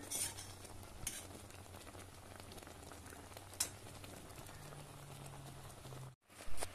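Raw mango pieces simmer in a pot while being gently stirred. A bubbling hiss is broken by a few light spoon knocks, and it briefly drops out near the end.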